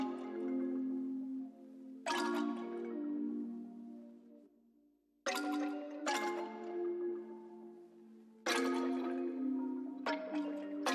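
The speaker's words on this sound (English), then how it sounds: "The next sound I'm going to add is this bell from Analog Lab." Bell patch from the Analog Lab synth with effects applied, a repeating melodic figure of struck tones with bright attacks and long ringing, reverberant decays, loud and alone with no talking.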